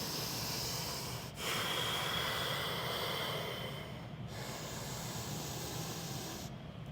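Breathing while holding a yoga plank pose: steady, airy, hissing breaths close to the mic, separated by short pauses roughly every few seconds, with no talking.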